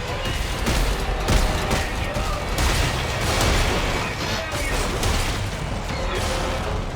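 Weapon fire from the sci-fi horror shooter Dead Space 3 aimed at necromorphs, dense bursts and booms over roughly seven seconds, loud and continuous over a busy game soundscape.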